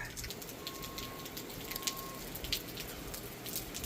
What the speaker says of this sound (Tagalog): Even the rain. See, look.